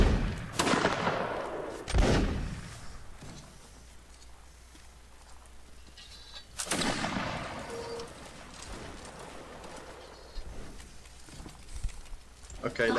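Musket volleys in Mount and Blade Warband, sharp broadband cracks at the start, near two seconds and again near six and a half seconds, with scattered lighter shots and reverberant tails in between.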